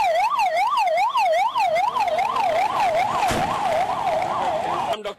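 Ambulance siren wailing loudly and steadily in a rising-and-falling pattern, close by, at a mock bomb-blast emergency drill at Jwalaheri Market, with a brief voice near the end.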